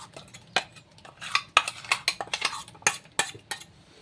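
A cooked ground curry paste goes into a pot and is stirred, with a spoon giving scattered sharp metallic clinks and knocks against the pot at an uneven pace.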